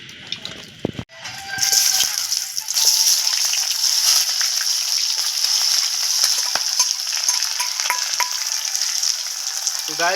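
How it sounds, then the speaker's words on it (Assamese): Onions frying in hot oil in a home kitchen, a loud steady sizzle and crackle that starts after a brief clatter and holds unbroken, close and alone. "গাইজ পিঁয়াজ দি দিলোঁ, তেল গৰম হৈ গৈছে। অলপ টাইম ভাজি লওঁ আগে, পেঁয়াজটো ভাজি লওঁ"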